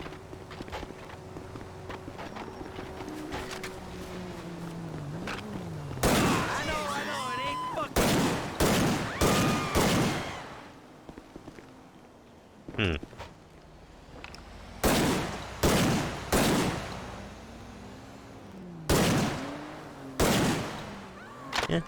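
Gunfire in GTA 5 on a modded PC copy: bursts of loud shots, several quick volleys spaced a couple of seconds apart over a steady game-engine hum, with footsteps and faint ambient noise between.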